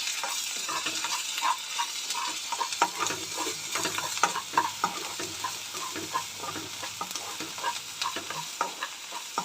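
Ginger garlic paste frying into a prawn curry base, a dense continuous sizzle with a rapid run of spoon scrapes and taps against the pan, close and loud.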